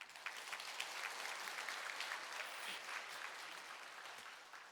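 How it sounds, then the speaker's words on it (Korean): A church congregation claps in encouragement during a Sunday worship service, a dense, even patter of many hands, fairly soft and distant, lasting a few seconds and fading slightly at the end. "격려의 박수를 한번 드렸으면 좋겠습니다"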